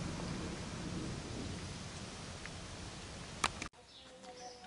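Outdoors in a vegetable garden, a steady wash of wind and rain roars for several seconds, then cuts off abruptly after a brief sharp knock, leaving quieter ambience with faint birdsong.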